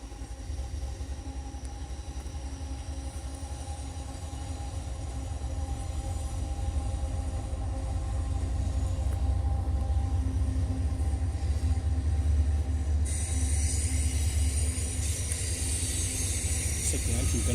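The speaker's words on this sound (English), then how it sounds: "There's the train." A train passes on railroad tracks at night in suburban Atlanta, a continuous low rumble that swells gradually and holds steady, heard from a moving vehicle.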